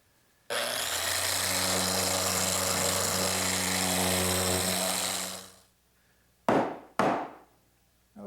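Loud continuous abrasive whirring of a power sander on wood for several seconds, then winding down, followed by two short scraping swipes.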